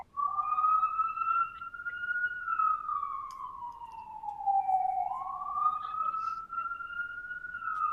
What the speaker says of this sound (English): Some ambulances in New York tonight. I hear it.